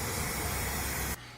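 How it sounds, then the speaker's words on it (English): Spray paint hisses steadily onto a craft pot, a continuous close, loud jet of aerosol that cuts off abruptly near the end, leaving quiet room tone. "spray the pot."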